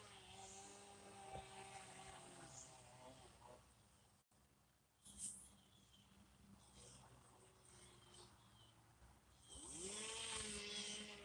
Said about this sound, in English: I hope the sound of that chainsaw is not coming in too hard.